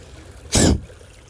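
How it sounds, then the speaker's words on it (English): One rapid, forceful exhale through the nostrils during breathwork, a short loud breathy burst lasting about a quarter second, close to the microphone in a quiet room. "So you're quickly exhaling through your nostrils"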